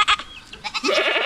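A large, fat goat on a farm bleats in a few short, loud, wavering calls close by, with no talk over it.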